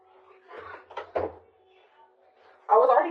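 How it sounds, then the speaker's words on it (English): A room door is shut once, a solid close near the end right after a woman's speech, louder than the talk before it. "I'm going to have to close my door"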